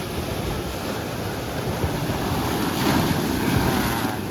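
Steady rushing of waves with wind buffeting the microphone, a continuous roar that swells slightly toward the end, no voices.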